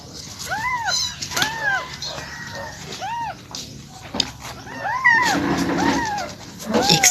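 A pregnant pet cat meows repeatedly, several clear rising-falling calls close by, with soft household noise and faint speech in the background.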